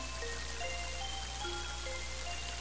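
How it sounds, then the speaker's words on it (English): Rain pattering on a roof in the Mother 3 video game, a continuous soft wash of drops with scattered light tapping, heard alone at a low level over a steady hum. "when you have the rain just pattering on the roof"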